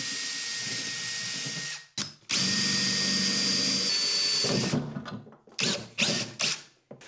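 Power drill boring a hole for a bulkhead fitting in a micro camper's pull-out kitchen: a short whirring burst, a brief stop, then a longer steady high-pitched run, followed by scattered clattering handling noises.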